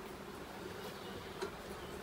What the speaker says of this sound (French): Hop, allez, j'ai une abeille.